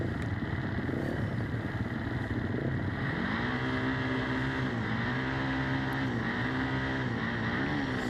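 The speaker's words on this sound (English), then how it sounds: "Bit of revving going on down on the line." Race motorcycles, including a 500 EXC, revving on the start line of a desert race prologue, engine drone with rising and falling rev sweeps heard at a moderate distance, steady throughout.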